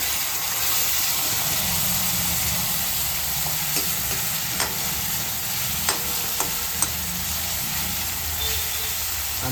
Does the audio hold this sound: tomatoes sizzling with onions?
yes